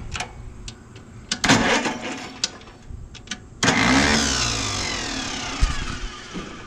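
A 1955 International 300 truck engine cranks with the choke on: scattered clicks and short bursts come first, then a sustained whirring crank of moderate loudness that carries on to the end.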